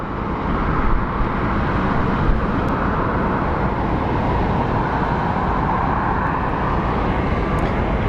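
A Boeing 737 MAX airliner at Phoenix Sky Harbor airport produces a broad, steady jet engine roar that holds loud and constant from a moderate distance, with faint traffic noise beneath.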